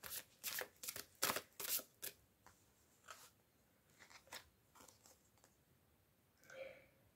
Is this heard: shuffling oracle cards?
yes